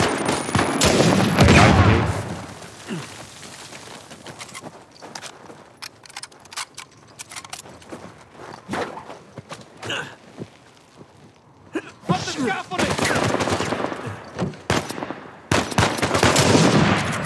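Gunfire bursts from Uncharted 4: A Thief's End, loud clusters of shots at the start and again near the end, with scattered sharper reports in between and a voice talking over parts.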